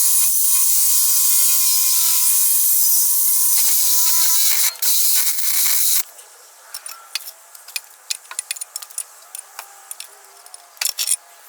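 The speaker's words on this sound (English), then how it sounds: "right here have very easy access to chop off the muffler" A power tool cuts through the muffler of a Honda Prelude with its rear wheel removed, a loud, sustained high-pitched metal-cutting whine for about six seconds, then a scatter of small metallic clinks and rattles.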